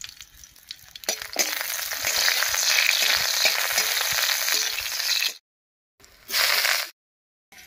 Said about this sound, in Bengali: তেল গরম হয়ে গেছে, তেলের মধ্যে দিয়ে দিচ্ছি কয়েক কোয়া রসুন থেতো করে নিয়েছি, আর দেবো কয়েকটা চেরা কাঁচা লঙ্কা